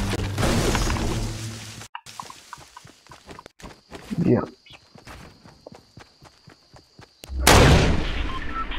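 Gunfire and footsteps in the video game Fortnite on Xbox One, with sharp bursts of shots alongside running steps, loud and close, with a voice talking over parts of it.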